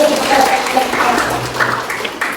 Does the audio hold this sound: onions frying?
no